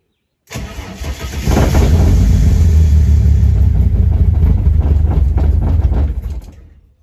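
Ford 4.0L engine fitted in a Mercedes W203 and started after long sitting: a brief starter crank, then the engine catches into a loud, close, rough idle that runs steadily before cutting off.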